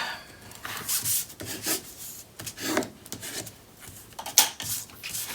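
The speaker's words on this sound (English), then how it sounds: "we're going to burnish everything real quick" Paper craft pieces for a mini album are burnished by hand, giving irregular dry rubbing and scraping strokes, close and fairly crisp, with brief pauses between passes and no speech.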